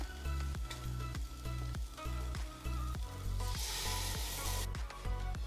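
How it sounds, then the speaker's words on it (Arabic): Tomato paste and other ingredients for Iraqi white bean stew frying in a pot as they are stirred, a constant sizzle with a rapid run of spoon knocks against the pot, close and without speech. "حتى المواد كلها تنحمس سوا"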